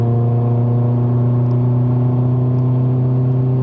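A Mercedes-Benz C180 W205 AMG Line held in gear at part throttle, its engine droning loud and steady with a strong, even low hum from inside the cabin, with no talking.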